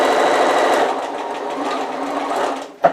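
A sewing machine stitches a cushion cover with a fast, steady mechanical whirr that eases slightly partway through and ends with a sharp click as it stops.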